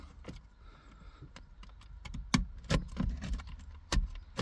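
Plastic trim clips on a Ford Fiesta MK7 radio being unclipped during removal: a scatter of sharp, close clicks and rattles, irregular and fairly quiet, without speech.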